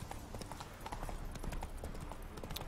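Horse hooves clip-clop in a steady trotting rhythm in The Witcher 3 video game, a continuous run of close, even hoof knocks over a soft outdoor ambience.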